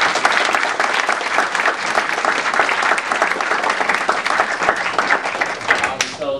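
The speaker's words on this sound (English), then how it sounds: "I want to give another round of applause" An audience at a college presentation applauds with dense, loud, continuous clapping that holds steady and then tapers off at the end.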